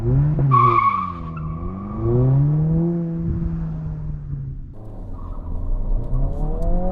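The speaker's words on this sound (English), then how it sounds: "a little bit of wheel spin" A 2022 Honda Civic Si hatchback pulls away hard with brief wheel spin, its engine loud and close as the revs climb and fall through gear changes, with a short tire squeal.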